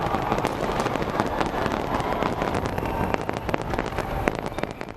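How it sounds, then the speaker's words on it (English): A New Year fireworks display near the Sky Tower in Auckland: a dense run of crackling bursts and sharp pops over a continuous rumbling wash, heard at a moderate distance with no talk. "with an exceptional fireworks display worked off near the Sky Tower in Auckland."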